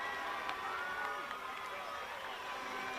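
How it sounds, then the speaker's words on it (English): Spectators at a U-23 men's softball World Cup game between Canada and Denmark cheer as a run scores, a steady, moderately loud crowd roar from a distance with a voice talking over it. "a large cheer from the crowd"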